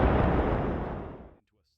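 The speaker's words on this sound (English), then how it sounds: "The explosion ignites internal fuel. A geyser of flame erupts from within." A tank's internal fuel ignites in a loud, roaring blast that fades steadily over about a second and a half, then cuts to near silence.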